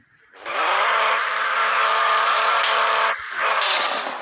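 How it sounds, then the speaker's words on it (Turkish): A car drifting in the Car Parking mobile game, with a loud close tire squeal and engine roar that starts abruptly, holds steady, dips briefly, then screeches again. "Burada bir drift yapalım mı?"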